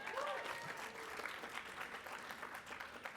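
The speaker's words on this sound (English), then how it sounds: "Big round of applause for both of them" Faint, distant audience applause at a Young Democrats of America convention, a steady patter of many hands with a brief voice at the start.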